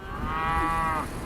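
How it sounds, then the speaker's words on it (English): A single cow moos in one long, drawn-out, tonal call lasting about a second, close and clear over faint background noise, with no talking. "Listening to these cattle,"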